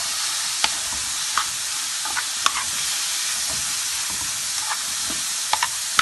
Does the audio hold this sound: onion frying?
yes